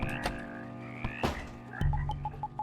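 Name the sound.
frog croaking in the horror video game House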